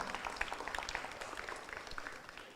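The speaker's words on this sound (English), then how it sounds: "Everybody give her a round of applause" Students at a weekly school assembly giving a round of applause, soft and somewhat distant clapping from a crowd with scattered individual claps standing out.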